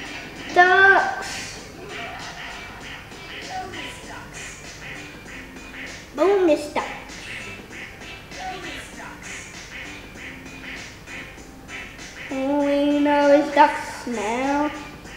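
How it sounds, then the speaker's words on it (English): Cartoonish duck quacks from the Roblox game Elevator sound in short bursts near the start, around the middle and near the end, each a few honks, amid game audio and talk. "Bonus duck, yay, I've got a bonus duck."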